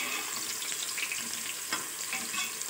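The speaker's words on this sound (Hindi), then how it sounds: "अब प्याज को हम जो है आहिस्ता आहिस्ता फ्राई करते जाएंगे।" Onions fry in a pan for a beef trotters paya recipe, giving a steady, soft sizzle with occasional stirring scrapes.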